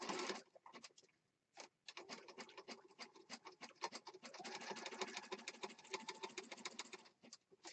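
A sewing machine runs a zigzag stitch around a fabric edge, a fast, rapid ticking chatter of the needle in bursts with brief pauses, fairly quiet and close.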